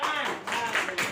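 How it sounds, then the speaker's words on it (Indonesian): Children applaud in a classroom, a short burst of dense, close clapping lasting about a second, with a voice mixed in. "Iya, tepuk tangan."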